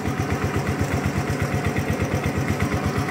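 A small motor bebek underbone motorbike engine idles close by with a steady, rapid low thumping pulse that holds even throughout.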